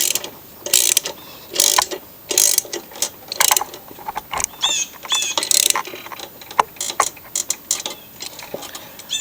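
A ratchet tightening the nut on a 22-inch blade of a Craftsman mower with an older Briggs engine, close and loud, in uneven bursts of quick clicking strokes separated by short pauses.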